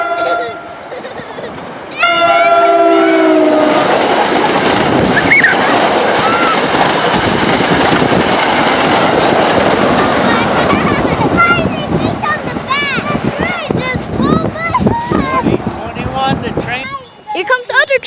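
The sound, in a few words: New Jersey Transit train passing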